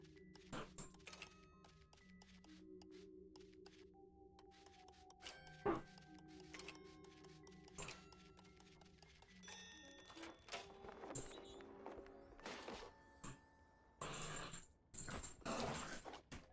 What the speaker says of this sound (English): my dogs are deciding to WrestleMania each other right now